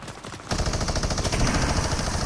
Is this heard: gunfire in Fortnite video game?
yes